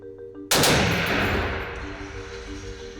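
A machine gun fires one loud, sudden, close burst. Its roar then decays into a long ringing echo.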